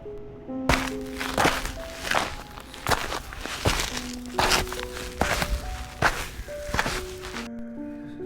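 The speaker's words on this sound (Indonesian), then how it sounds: "Suara dari langkah kaki sosok tersebut terdengar berat" Heavy footsteps of a tall, very thin figure in a horror story land as a slow series of about ten loud, close thuds over a soft, sustained melodic background.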